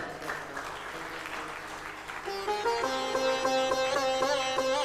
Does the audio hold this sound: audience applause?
yes